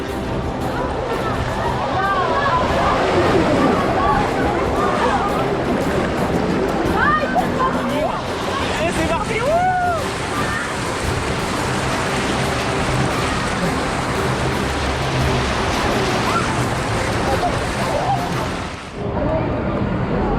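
Continuous rushing water on a water park river ride at Rulantica fills the whole stretch, a steady broadband wash with faint voices and splashes mixed in, close and loud throughout.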